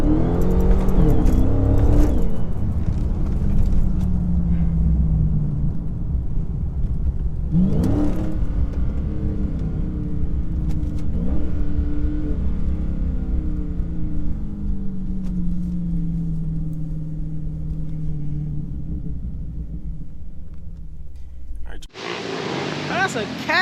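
A Cat 300 car engine revving hard while driving: a loud, sustained roar that rises and falls through gear changes for over twenty seconds, recorded from inside the car, with people talking over it.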